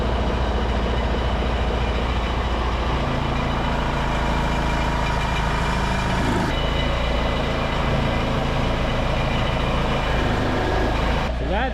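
A 4-wheel drive telescopic forklift with 4-wheel steering sits with its diesel engine running steadily, a loud, continuous low rumble throughout the clip.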